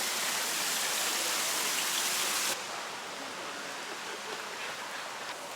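Rain falls steadily in Tallahassee, Florida, a dense hiss of broadband noise that is loud at first, then drops abruptly to a softer, steady patter for the rest, with no voices.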